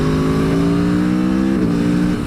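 An Aprilia Tuono V4 1100 motorcycle revs hard in race mode, its loud, steady engine note rising in pitch, then a quick shift drops it before it climbs again.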